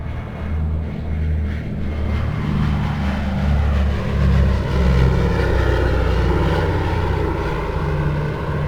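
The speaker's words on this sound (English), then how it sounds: "Round engines just sound and smell better than jets." A steady, deep radial aircraft engine drone with a throbbing propeller quality, loud and continuous throughout with no talking.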